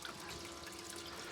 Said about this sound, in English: We got the sluice flowing right.